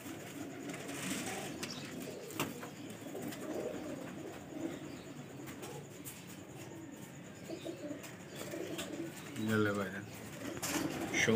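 A pair of Royal Taddy pigeons coo softly in a shelter, low repeated calls mixed with light chirps, while someone talks over them close by and other sounds scuffle in the background.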